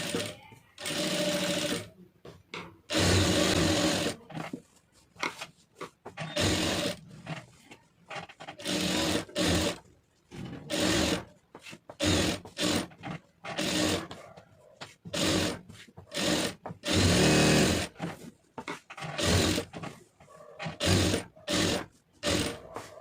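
A sewing machine stitches a lining blouse in short bursts of rapid mechanical chatter with pauses between runs, a voice talking quietly in places.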